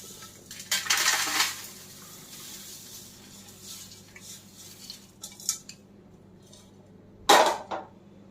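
Thin poha chivda, cooled and crisp, is tipped into a cooled metal pot, giving dry rattling, clinking bursts near the start and a sharper clatter near the end, with quieter scraping between.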